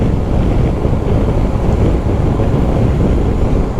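Heavy, constant wind roars and buffets against the microphone while riding a BMW R 1250 GS motorcycle, a loud low rumble with no break.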